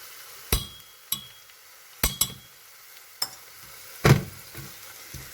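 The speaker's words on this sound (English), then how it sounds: "Saute this until the raw smell of the ginger garlic paste goes" Onions and ginger garlic paste sautéing in a pan, with a soft low sizzle under sharp, irregular clinks and knocks of a spoon against the pan.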